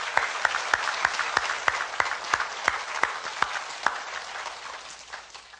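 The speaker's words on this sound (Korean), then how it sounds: "위대하신 구원을 이루신 하나님을 우리가 박수 한번 쳐서 영광 드립니다." A church congregation clapping in unison during a sermon, steady rhythmic claps roughly three per second, fairly loud and close, tapering off toward the end.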